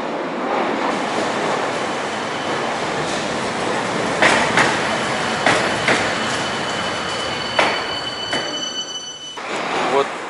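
Tram pulling into and out of a station in Volgograd, heard as continuous rumbling rail noise with several sharp metallic squeals and high sustained tones from the wheels, fairly loud and steady throughout.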